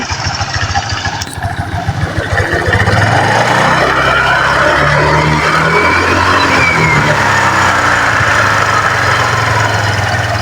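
A Suzuki Skydrive scooter engine with a defective drive pulley set runs loud and steady on a test drive, a continuous droning roar with a rising whine and no voices.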